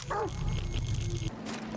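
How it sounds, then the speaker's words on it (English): Dogs in the Stalker 2 game yip and bark in a short, close burst over a low, rumbling game ambience. "An army of dogs downstairs"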